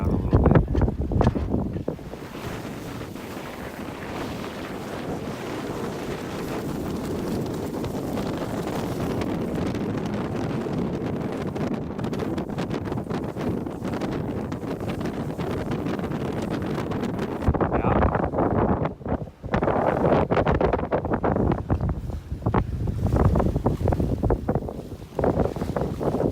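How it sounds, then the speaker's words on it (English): A sailboat under way in wind off Fitz Hugh Sound, with steady loud wind roar buffeting the microphone throughout and the sail flapping and the hull rushing through water beneath it. "The sail's already starting to flop around a little bit."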